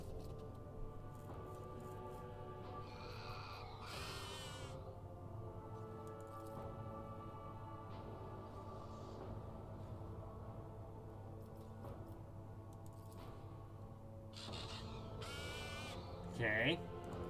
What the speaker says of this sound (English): He's a good Psy Raven.